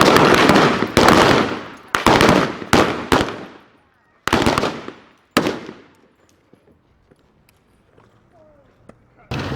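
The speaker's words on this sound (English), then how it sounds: "don't know who's doing the shooting" Gunfire in an Old West town shootout reenactment: a rapid string of loud, sharp gunshots in bursts over the first half, then a few scattered single shots with quieter voices and movement between.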